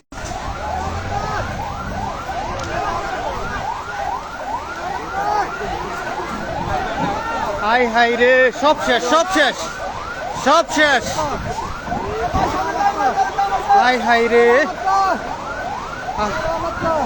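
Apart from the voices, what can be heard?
fire service vehicle siren at a market fire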